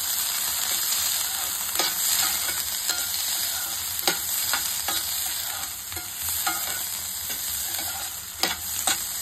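Corn kernels fry in melted butter in a pan, a steady close sizzle broken by scraping stirs and small clicks of the spoon against the pan, with no talking.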